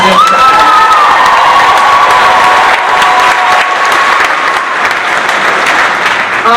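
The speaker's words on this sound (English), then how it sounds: "we want to give one more round of applause for Jill" A loud, steady burst of crowd applause from a college a cappella concert audience, with some cheering mixed into the continuous clapping throughout.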